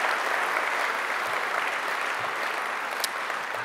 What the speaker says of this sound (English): A round of applause for them straight up.